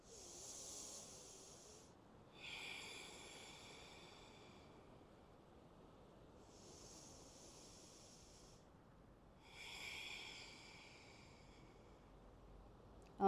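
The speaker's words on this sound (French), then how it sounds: "Vous pouvez prendre la respiration Ujjayi." Slow Ujjayi yoga breathing, airy and hissing, repeats in long inhale and exhale cycles, four or so in all, soft and close over a faint background.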